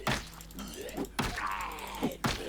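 Melee hits land on a zombie in Project Zomboid, three or four dull thumping strikes spaced about a second apart, each followed by short groaning scuffles, with no speech.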